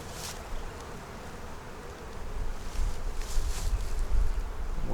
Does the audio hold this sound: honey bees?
yes